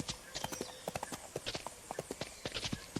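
Horse hooves clip-clopping steadily in a video game as a horse is ridden along, a quick even rhythm of sharp nearby hoof strikes with faint ambient sound behind.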